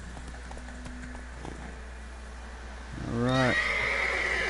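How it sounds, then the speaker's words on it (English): A horse whinnies loudly near the end while being ridden in The Witcher 3: Wild Hunt video game, after a stretch of quiet ambience and faint soft hoof sounds; someone briefly speaks. "it's easier to ride a horse than it is to walk"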